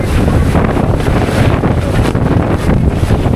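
Strong, constant wind buffets the microphone at a beach campsite in Borawan, a dense roaring gust with no let-up and faint surf underneath.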